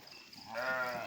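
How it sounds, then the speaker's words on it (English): A sheep in the sheep pen of a farm gives one loud, drawn-out bleat that swells midway and holds to the end, close by, with soft farm background noise beneath it. "now we're entering the sheep area because my son has never seen so many sheep live before"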